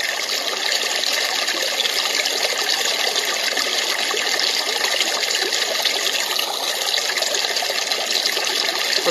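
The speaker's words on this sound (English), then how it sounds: "Babbling brook." Babbling brook setting on a white noise generator: a steady, dense rush of trickling, bubbling water that runs unchanged from start to finish, loud and close with no voices.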